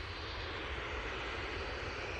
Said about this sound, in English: This 737-800 is going off to Venice now.